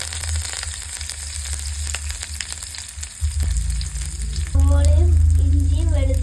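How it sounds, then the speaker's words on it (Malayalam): Curry leaves and mustard seeds hit hot oil for a Kerala-style masala, bursting into a loud, steady sizzle that jumps sharply in volume partway through and keeps crackling close up. "നമ്മൾ ഇച്ചിരി കരിവേപ്പില ഇടുവാണ്."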